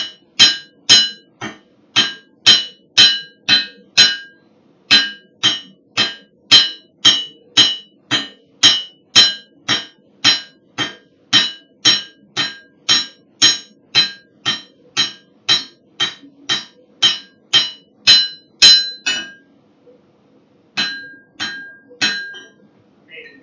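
Hammer forging a Damascus clad knife blade, a long run of sharp, ringing metallic strikes at a steady, even rhythm, close and loud, ending with a short pause and a few final blows.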